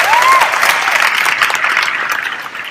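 An audience at a success forum convention breaks into loud, close applause that fills the room for a few seconds and tapers slightly at the end.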